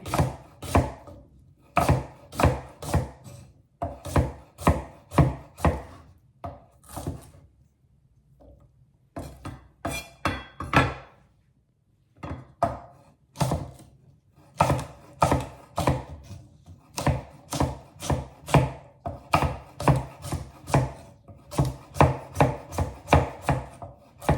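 A knife chops asparagus into rounds on a board for a Kerala-style stir fry. Quick runs of crisp, evenly spaced cuts come in bursts, separated by brief pauses.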